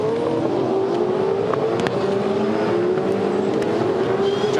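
V8 Supercars racing in the 2014 Tasmania 400, a loud continuous roar of engines at close range, with rising tone as cars accelerate and no talking.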